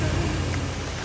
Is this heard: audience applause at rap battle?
no